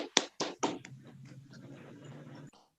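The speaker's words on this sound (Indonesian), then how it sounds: "beri tepuk tangan buat Mbak Elma dan kelompoknya." A few sharp, close hand claps for a student group in an online class, followed by a quieter stretch of low voice-like sound.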